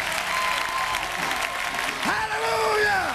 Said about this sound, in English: I think God deserves a hand clap of praise